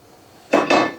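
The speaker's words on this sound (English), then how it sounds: "I have another standard size cast iron skillet on the stovetop." A standard-size cast iron skillet is set down on a stovetop, producing two quick heavy metallic clanks in close succession, loud and near.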